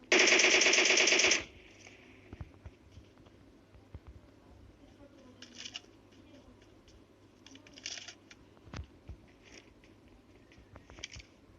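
Automatic gunfire in PUBG Mobile on the Erangel 2.0 map opens loud and close as a rapid sustained burst of about a second and a half, followed by quieter scattered shots and game noise.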